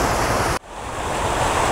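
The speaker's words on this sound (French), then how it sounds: "l'eau traverse pierres et galets pour se retrouver ensuite dans le bassin tout en bas" Water at about 16,000 gallons per hour runs over stones and pebbles into a pond at the Laurentides natural cemetery in Prévost, making a loud, constant rushing roar that cuts out briefly, then rises back to full strength.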